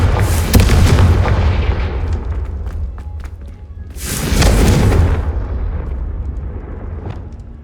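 Two heavy booming blasts from the Confringo spell in the game Hogwarts Legacy, each with a deep rumbling tail, the second arriving about four seconds after the first; loud and close, with no voices.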